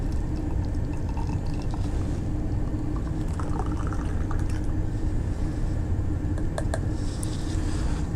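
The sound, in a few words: pouring homebrew beer from a keg tap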